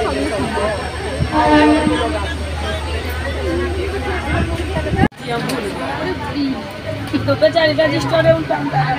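A busy station with trains rumbling low and steady beneath a crowd's babble, the sound cutting out abruptly midway before the rumble and chatter resume.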